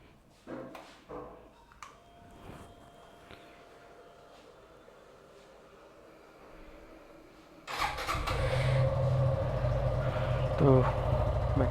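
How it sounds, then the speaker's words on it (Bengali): A motorcycle that has not been started for a long time fires up after some quiet clicks and fiddling, then settles into a steady, close, loud idle running to the end. "ফার্স্ট বাইকটা স্টার্ট দিই"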